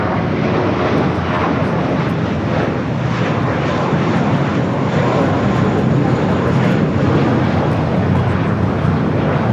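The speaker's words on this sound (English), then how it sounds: "United flight coming in from Cabo" A 29-year-old United Airlines A320 arrives at LAX from Cabo, a loud, continuous jet roar that stays strong and even from start to finish.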